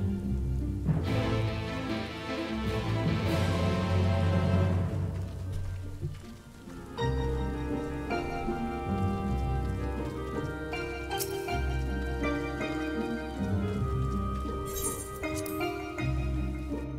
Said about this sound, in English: the novelty of standing around outside in the rain does wear off rather quickly